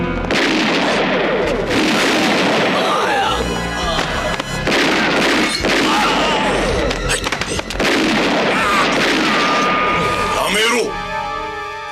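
Gunfire and sharp shot bursts from a casino heist film's shootout, dense and loud across the scene with rapid repeated cracks under a busy music-and-effects soundtrack.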